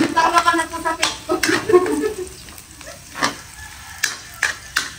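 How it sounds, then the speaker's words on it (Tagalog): Garlic sautéing in a hot pan: a steady sizzle runs under sharp, irregular scrapes and taps of a spoon stirring, close and fairly loud. "Put bawang. Yan. And saute."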